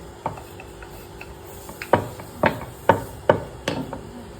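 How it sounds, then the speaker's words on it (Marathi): A rolling pin works chapati dough on a board, giving a series of sharp knocks and taps, about six louder ones in an irregular rhythm, close and fairly quiet. "मी लाटून घेते की आपल्यात चपात्या पटापट लाटते"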